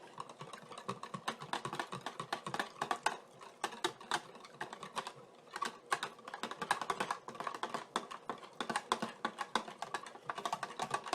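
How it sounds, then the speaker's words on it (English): A wire whisk beats a thin, watery sauce darkened with Worcestershire sauce for porcupine balls, giving rapid, close, steady clicking and scraping against the bowl for the whole stretch with no talking. "we're going to grab our whisk and just kind of whisk this together into a nice watery thin sauce"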